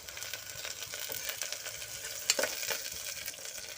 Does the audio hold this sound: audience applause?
no